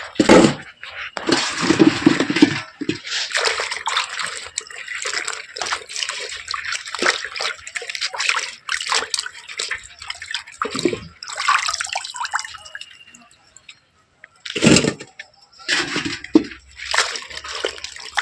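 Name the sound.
rinsing soil off palmyra sprouts in water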